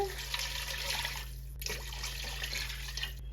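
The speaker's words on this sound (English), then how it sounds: "Next goes in the water." Water poured into a cooking pot for a family dinner, a steady hissing splash that runs nearly unbroken for a few seconds, with a brief dip midway, close and moderately loud, no talking.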